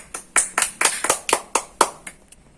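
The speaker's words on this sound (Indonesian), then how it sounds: "Beri aplaus untuk Bu Tuti" Applause for a participant during a parenting education class session, a sparse handful of hands clapping at a fairly close distance in about nine distinct bursts over a few seconds, with no talking.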